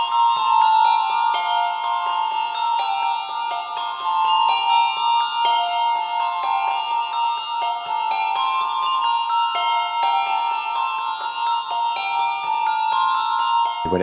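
A reworked church bell peal composition rings out for Holy Trinity Church, with bright overlapping bell strikes falling in steady succession and sustained ringing tones, clear and unaccompanied throughout.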